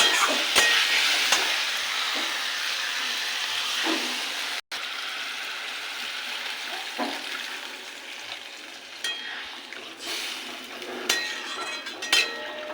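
Fried masala for a banana-flower kofta curry sizzles loudly in a pan as water goes in, with a continuous close hiss, a brief break, then softer bubbling and a few light metallic clinks toward the end.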